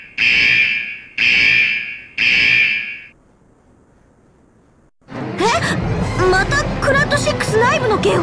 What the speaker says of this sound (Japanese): これ居住区画の緊急避難警報じゃん。